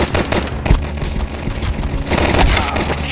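Gunfire from the Counter-Strike 2 video game, a dense run of overlapping shots and bursts sounding close and loud, continuing through the clip with a brief flurry near the middle and another near the end.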